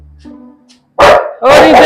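A dog barks twice, loud and close, in two sharp bursts about half a second apart, after a quieter opening with faint background sounds.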